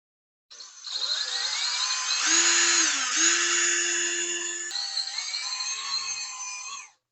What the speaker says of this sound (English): I think I can get that faster with the drill